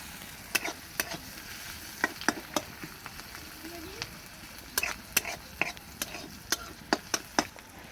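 Onions frying in a pan for a desi mourala fish charchari, a constant sizzle broken by frequent sharp scrapes and knocks of a spatula stirring, close and with no talking.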